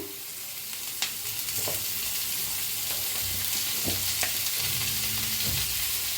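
Garlic, tomato and cashews frying in a little oil in a pan, a steady broadband sizzle with occasional spoon clicks and scrapes, close and continuous with no talking.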